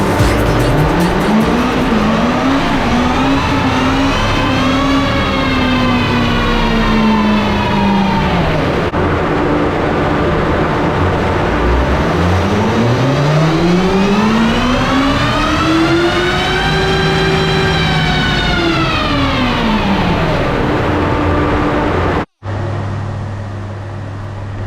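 A 2008 Kawasaki ZX14 sport motorcycle, freshly ECU-tuned, revs loud and close in long sweeping rises and falls, its engine pitch climbing high and dropping back twice before cutting off abruptly near the end.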